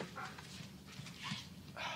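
A dog whimpers and gives a few short, high yips in scattered bursts, fairly faint against a steady background hum, with no talk.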